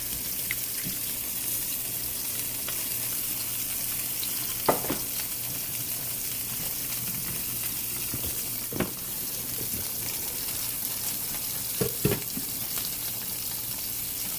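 An egg fries in grease in a pan, a steady low sizzle running throughout with a few sharp clicks and scrapes of a utensil spaced apart.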